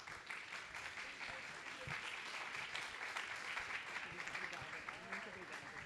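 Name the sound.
audience applause welcoming a guest to the stage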